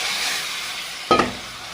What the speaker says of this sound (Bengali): মশলাটা ভাজা হয়ে গেছে, এবার আমি মাছগুলো দিয়ে দিচ্ছি।